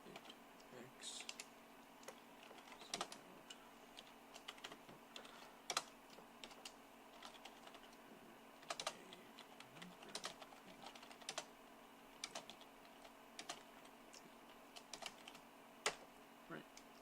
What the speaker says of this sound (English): let's just type a little bit of code here